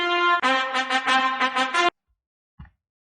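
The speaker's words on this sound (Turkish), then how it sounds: "Bakın trompet sesi." A brassy trumpet-like horn plays a short run of clipped, rhythmic notes, then stops; a faint thump follows in the silence.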